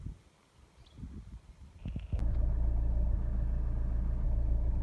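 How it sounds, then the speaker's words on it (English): Vauxhall Insignia 2.0 CDTi SRi diesel heard from inside the cabin: a few faint knocks, then from about two seconds a steady, loud, low engine drone that holds evenly to the end, with no talk. "engine's running through this part of the video"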